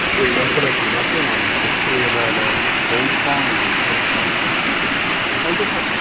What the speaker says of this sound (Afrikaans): Hierdie water vloei nou hier in en af. Na die damme agter.